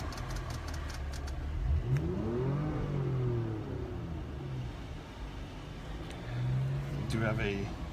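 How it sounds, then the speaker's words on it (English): A 2017 Porsche Macan GTS engine, heard from inside the cabin, idles and then revs up twice in rising sweeps before settling back, with a person talking over it. "I'm gonna rev it from inside."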